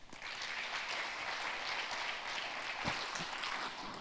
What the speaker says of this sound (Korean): 그럼 여러분 큰 박수로 환영해 주시기 바랍니다.